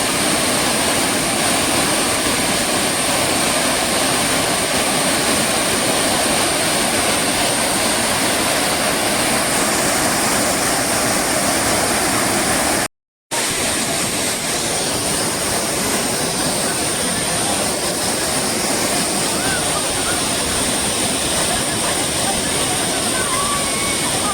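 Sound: Savadav waterfall rushing water, Kankavli

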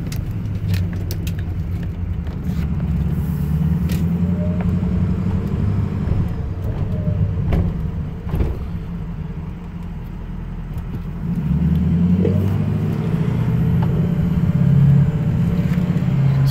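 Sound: Ford 6.0 Powerstroke diesel engine running and revving

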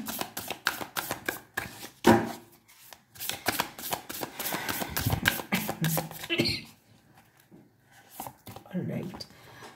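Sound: handling and drawing tarot advice cards

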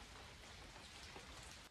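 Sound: dripping of mist condensing on trees, sounding like rain

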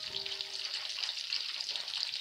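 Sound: chicken wings frying in a covered pan

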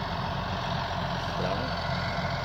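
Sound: Case IH Magnum 280 tractor engine running

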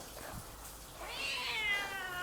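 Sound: cat meowing

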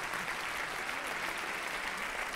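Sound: audience applause at a Christmas concert

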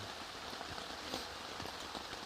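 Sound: heavy rain on tent

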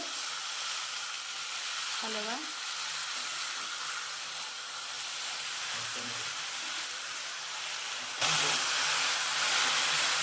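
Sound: fenugreek leaves frying in oil

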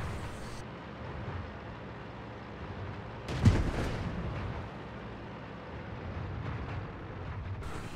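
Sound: tank gun firing in World of Tanks video game

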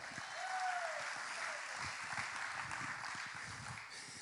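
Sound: congregation clapping hands

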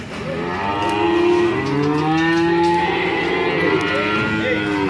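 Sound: cattle mooing at livestock market

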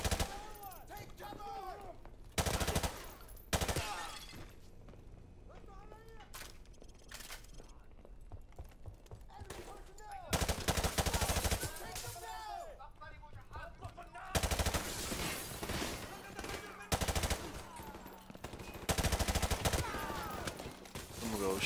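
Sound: shotgun fire in the video game Modern Warfare Remastered

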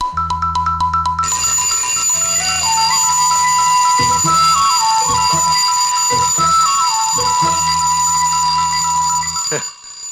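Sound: alarm clock ringing

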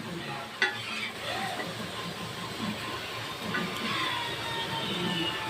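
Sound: elephant foot yam slices frying on a pan

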